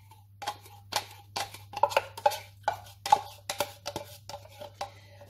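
A spoon scraping condensed milk into butter and stirring it for a simple no-egg pie, with a series of clinking, tapping metal-on-bowl strokes in an irregular rhythm over a faint steady hum.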